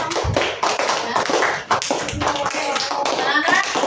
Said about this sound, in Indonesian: Kasih tepuk tangan dulu untuk kita.